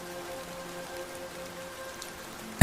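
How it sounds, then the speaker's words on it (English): Soft, steady rain falls at night in a forest outside glass walls, a faint, even hiss that carries on unbroken until a short, sharp burst at the very end. "the rain that had been falling since early evening had softened into something barely distinguishable from mist"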